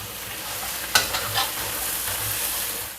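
Sambal chili paste with palm sugar and MSG fries in a pan and sizzles steadily throughout. A few sharp scrapes and clacks come from stirring near the start, and no one speaks.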